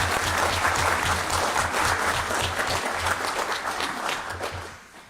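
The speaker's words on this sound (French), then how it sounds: "Applaudissez-les." Applause at a municipal council meeting in Verlinghem, France, after the election of the deputy mayors: a dense, steady round of clapping from the room that holds strong before fading out at the very end.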